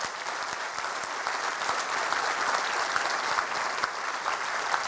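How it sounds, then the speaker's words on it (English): A roomful of people applauds, with dense, even clapping that holds steady for several seconds at moderate distance, with no voices. "And that should be applauded by everybody in this room."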